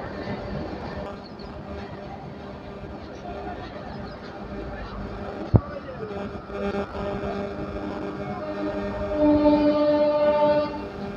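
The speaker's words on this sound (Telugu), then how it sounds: "At the non-stopping fast train, about to pass Sandhya." A non-stopping fast train passes a station platform at speed with a steady rolling rumble, a sharp bang midway and a sustained horn blast near the end, distant announcements and voices faintly underneath.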